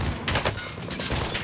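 Rapid gunfire in the Call of Duty Warzone video game, a dense, continuous burst of overlapping shots that is loud and close and fills the whole short stretch with no talking.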